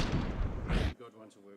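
A short burst of gunfire from a Counter-Strike esports match cracks loudly and briefly, then quickly gives way to a commentator's voice.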